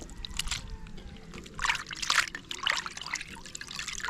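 Water trickles and splashes into a pot while tuna paksiw is being cooked, in a few uneven bursts of pouring over a quiet kitchen background.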